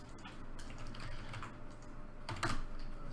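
Soft keystrokes tap on a computer keyboard during game testing, quiet and close, ending with a slightly firmer press like Enter.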